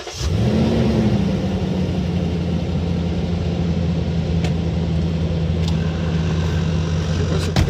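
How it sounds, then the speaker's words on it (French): A Lexus GX 460 cranks and fires up, then settles into a steady, close, low idling rumble that holds evenly to the end, with no talking. "Vous allez entendre la suspension arrière se mettre de niveau."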